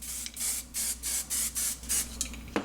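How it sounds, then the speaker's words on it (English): Hairspray misted over hair in six or seven short, even bursts at a steady rhythm, close and hissy, followed by a faint clack. "add hairspray overall"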